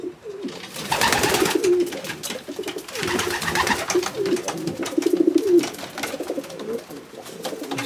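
Pigeons in a loft, including a black pied cock bird, coo repeatedly in soft rolling bursts close by, with rustling and fluttering in between.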